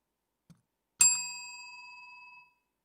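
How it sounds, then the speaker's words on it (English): A single bell struck once as a speech-contest time signal, a bright ding that rings on and fades over about a second and a half in an otherwise quiet room. "After 7 minutes have passed, we'll ring the bell like this."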